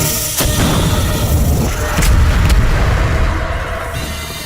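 A deep, loud boom rolls out with a heavy rumbling tail, followed by a second thud, like a cannon blast with lingering low roar.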